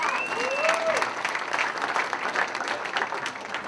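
Applause from a comedy show crowd at a fundraiser, a brief burst of moderate, steady clapping with a faint whistle near the start.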